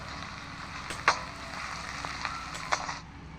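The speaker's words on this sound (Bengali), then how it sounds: "এখন দিয়ে দিচ্ছি বেটে রাখা রসুন ভেজে নেব।" Ground garlic fries in a pan with a faint, soft sizzle punctuated by a few light clicks and taps, quiet and close, without speech.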